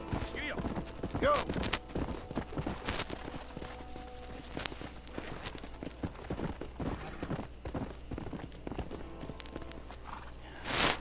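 Horse hooves clip-clop at a steady riding gait in the Western game Red Dead Redemption, close and continuous under game music and a brief voice, with an occasional snort and a louder burst near the end.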